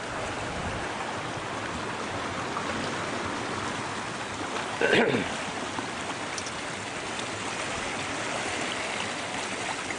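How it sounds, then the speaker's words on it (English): A creek waterfall flows steadily nearby, with a dense continuous rushing and splashing wash that is loud and unbroken and briefly louder at one point. "There's a waterfall."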